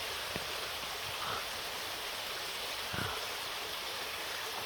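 Water drips and flows steadily in a stream at Calderglen park in Scotland, a constant close rushing wash broken by a few soft drips and low splashes.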